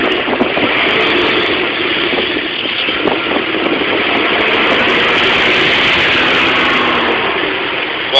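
A car engine built to run on waste engine oil hums steadily and fairly loud throughout, a continuous broadband drone with no pauses.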